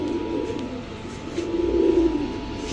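Golla pigeons, a bonded pair, coo softly in a low, repeated murmur that swells near the middle of the clip, set against a steady background hum with no voices.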